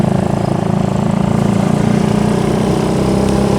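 A motorcycle engine running steadily on a road in Tulungagung, a close, loud buzzing drone with a low pulsing rumble and no pauses.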